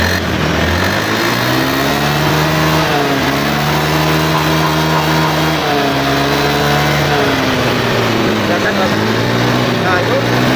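A Honda Beat ESP scooter engine damaged by fake oil, revved at a roadside, a loud steady mid-pitched drone that climbs and dips with repeated throttle pulls.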